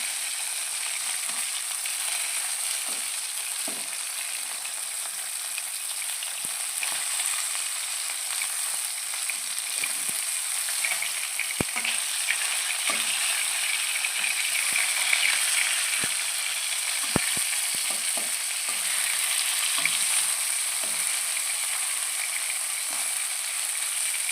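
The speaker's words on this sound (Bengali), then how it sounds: "আমি তো মাছ ভাজছি" Katla fish frying in hot oil in a home kitchen, a continuous bright sizzle with scattered pops and small crackles, close and steady throughout, no talking.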